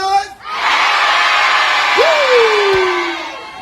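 A university crowd cheers and whoops, giving a loud sustained roar with a rising shout sliding through it, close to the listener.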